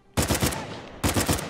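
Gunfire in the video game Uncharted 4 comes as two sharp, loud bursts of rapid shots close together, each trailing off with a short decay.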